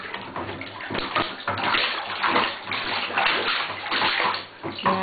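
A dog plays in water, with busy splashing and sloshing close by that rises and falls in uneven bursts.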